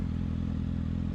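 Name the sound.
motorcycle moving off as the clutch is slowly let out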